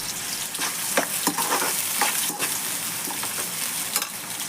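Onion, green chilli and curry leaves fry in hot oil for a liver fry, a continuous close sizzle punctuated by repeated scraping strokes of a spoon stirring the pan, with no talking.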